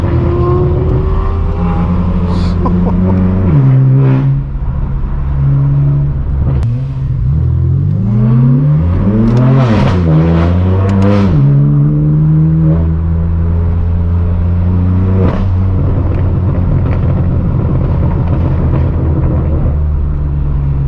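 Straight-piped BMW M4 F82 roars loudly while driving, its exhaust note climbing and dropping through repeated revs and gear changes, with sharp pops and a droning tone across twenty seconds.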